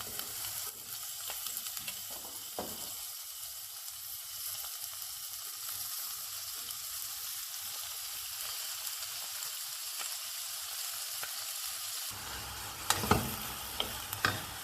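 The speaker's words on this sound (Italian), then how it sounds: "Ora aggiungo i peperoni." Bell peppers drop into hot oil with onion, bursting into a loud, steady crackling sizzle that runs for the length of the clip, with a few stirring knocks and scrapes near the end and no voices.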